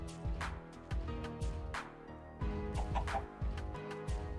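Chickens in the Minecraft video game clucking in quick repeated bursts, close and fairly loud, with short pauses between calls.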